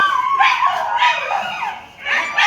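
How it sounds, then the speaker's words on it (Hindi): Several dogs bark and howl together close by, with yips and whining cries rising and falling in overlapping waves that dip briefly and then resume. "जब दाल वाले भैया आते हैं तो ये कुत्ते ऐसे ही"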